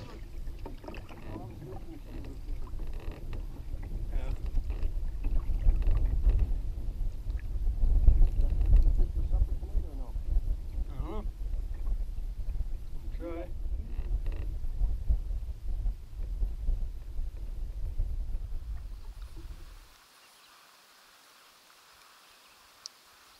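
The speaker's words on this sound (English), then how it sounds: "it's pretty tough to fish in this wind with an empty canoe" An empty, lightweight canoe on a lake in Quetico Park, with steady wind buffeting the microphone and faint water sounds for about twenty seconds before cutting to near silence.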